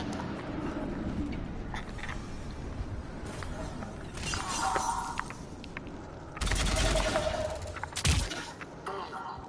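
Gunfire and shattering bursts in the video game Dying Light 2, loud and continuous with dense crackling volleys that swell twice, mixed with shouted voices and game noise.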